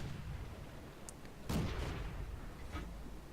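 Tank cannon shot in a tank battle video game, a single sharp distant boom rising from faint background rumble, followed by a fainter second report.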